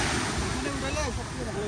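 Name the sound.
sea waves at a Sri Lankan beach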